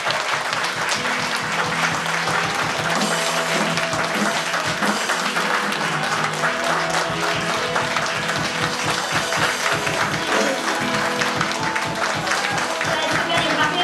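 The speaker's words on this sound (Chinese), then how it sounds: "拍掌荣耀我们的主" A church congregation claps hands in praise, a dense, continuous roar of many hands beating together nonstop, loud and close, with voices mixed in.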